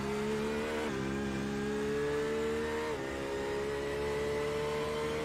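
A Porsche race car runs on track during qualifying, its engine holding a sustained, loud, steady whine that dips briefly on two shifts and then climbs again, with no other sounds over it.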